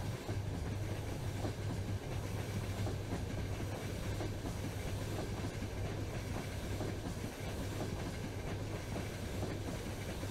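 Train wagons rolling continuously in Trainz Railroad Simulator 2019 on a Krasnoyarsk railway route, a steady loud rumble with clickety-clack of wheels and a low hum throughout, no talking.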